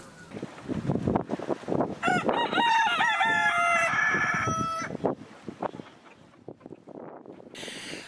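Silkie hens and a rooster roam garden beds in frost-free January weather; a loud nearby rooster crows once in a long rising call amid repeated clucking and scratching noises, with hens chattering before and after.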